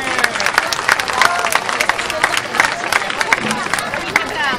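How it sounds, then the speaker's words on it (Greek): Audience at a Pontian Greek association event giving a lively round of applause, dense clapping mixed with crowd murmur and some cheering, loud and continuous throughout. "Και ένα χειροκρότημα για να τους δώσουμε λίγη ενέργεια."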